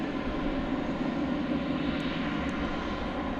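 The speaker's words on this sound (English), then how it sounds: "This is American Flight 1104. It's going to Boise, Idaho. It's a 737-800." American Airlines Boeing 737-800 taking off from DFW airport at night, a steady, loud broadband jet engine roar holding throughout with no speech.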